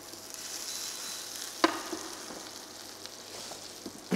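Butter-ready hot frying pan giving off a low, steady sizzle, with a sharp clink near the middle and a few small pops, fairly quiet throughout.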